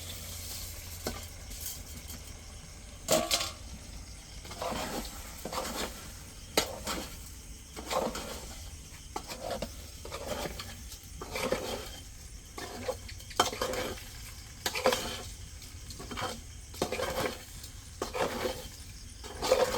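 Rice goes into a pot for bhuna khichuri and is stirred, with repeated scraping and clinking of a spoon against the pot over a faint sizzle, close and unhurried, with no voices.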